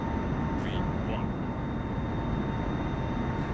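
An airplane's engines roar during takeoff in the Flight Simulator 2021 video game, a steady, loud broadband drone that holds constant throughout.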